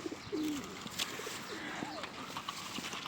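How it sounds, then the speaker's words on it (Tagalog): Pigeons coo softly in short warbling calls outdoors in Ireland while being fed leftover chicken, with faint chirps and light background noise between the calls. "Papakain natin sa kalapate ito."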